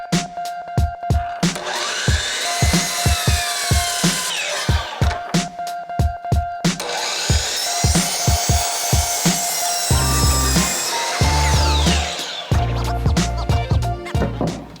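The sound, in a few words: power saw cutting wooden ramp legs and brace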